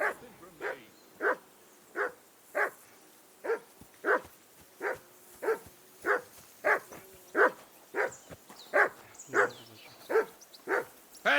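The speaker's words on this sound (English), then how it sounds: "Henry, whistle at that mutt of yours to stop barking" A dog in the medieval role-playing game Kingdom Come: Deliverance II barks repeatedly in an even, steady rhythm, nearly twenty sharp barks close by against a quiet background.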